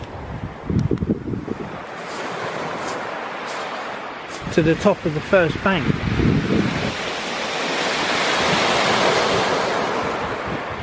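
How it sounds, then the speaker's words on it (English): Strong wind gusting across a shingle beach by the sea, a steady broadband roar rising toward the end, with surf mixed in and a person talking briefly through the middle. "Oh, it's so windy."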